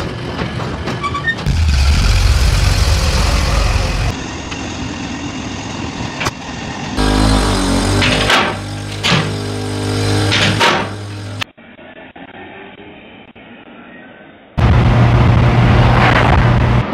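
A Mazda RX-7 rotary engine runs and revs through several passes, loud and close, with abrupt changes as it drives by and settles into a lower hum.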